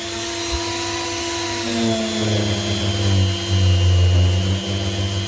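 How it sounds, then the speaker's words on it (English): Dremel rotary tool running steadily as it polishes an airsoft rifle barrel coated in cleaning paste, a close, continuous whining buzz that rises and swells slightly in pitch and loudness as it works, with no talking. "Turn the Dremel on."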